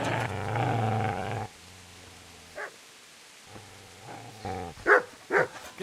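A dog growls and barks in the medieval game Kingdom Come: Deliverance, with a sustained low snarl at the start, then sparse, louder bark bursts near the end.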